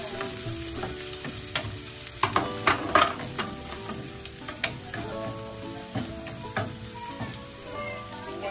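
Garlic and onion sauté in a pan with a steady close sizzle, dotted with irregular taps and scrapes of a utensil against the pan.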